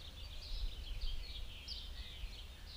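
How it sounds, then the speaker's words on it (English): Many birds chirp together outdoors on a morning, a steady dense chorus of high calls over a low rumble of background noise, fairly faint and with no talking. "walk outside and hear like thousands of birds everywhere"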